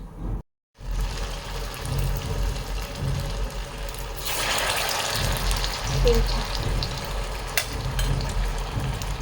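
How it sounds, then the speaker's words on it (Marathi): Puffed-rice medu vada frying in hot oil, a continuous sizzle that swells louder midway after a short silent gap near the start, with faint kitchen noises. "तेल छान तापलेलं आहे वडे होत आहेत"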